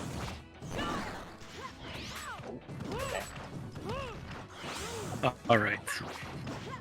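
Down smash attacks landing in a Super Smash Flash 2 tournament match, Isaac versus Meta Knight, a busy stream of crunchy hits, whooshes and chirpy game effects with sharper bursts near the end, under excited commentary.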